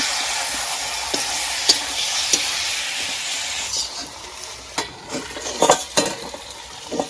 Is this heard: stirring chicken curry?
yes